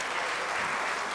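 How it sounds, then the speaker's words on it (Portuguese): A comedy hypnosis show audience gives a round of applause for the translator, a steady, fairly faint wash of many hands clapping together. "uma salva de palmas pro nosso tradutor aqui."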